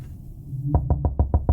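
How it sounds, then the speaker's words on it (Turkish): In a horror video game, something knocks on a door with six evenly spaced, dull, heavy thuds. The knocks are loud and close, and nobody speaks over them. "Bir şey kapı çalıyor."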